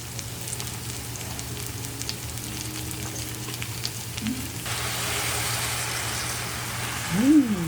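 Onion, chili, ginger and fish sauce sizzling in a pan for ginataang langka, steady moderate frying hiss that grows stronger partway through, with a low background hum and no talk.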